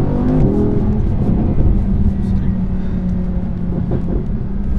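Audi R8 V10 Plus with its stock exhaust, a loud, steady, deep engine drone heard from inside the car for the whole stretch.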